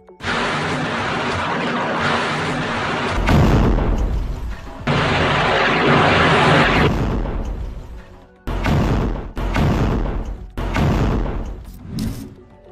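Heavy rocket salvos and machine-gun fire from Hezbollah's attack on IDF positions, loud, dense bursts of booming fire that run in long sustained stretches, broken by brief pauses and abrupt restarts.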